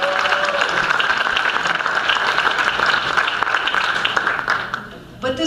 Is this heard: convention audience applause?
yes